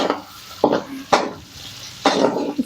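Onion fries in ghee in a kadai while a spoon scrapes and stirs in three loud, separate bursts over a low background sizzle, with no talking.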